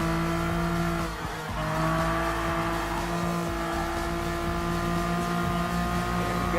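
A TVR Tuscan Speed 6 races in Gran Turismo Sport, its engine holding a loud, steady high drone with a brief dip near the start before climbing back, alongside faint tire noise.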